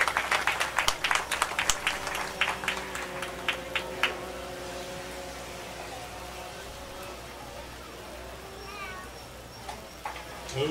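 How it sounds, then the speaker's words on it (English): Crowd claps for anglers at a bass fishing tournament weigh-in at Guntersville, Alabama, with sharp claps early that thin out into outdoor crowd murmur, scattered voices and a few stray claps. "How about a round of applause for these guys?"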